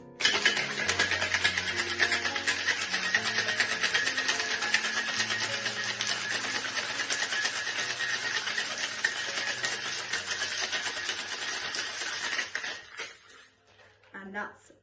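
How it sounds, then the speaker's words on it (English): A cocktail shaker full of ice is shaken hard for a Beefeater Pink gin Pink Lady, making a dense, fast, continuous rattle for about twelve seconds over soft background tones before it stops. "Now for the most important part, the shake."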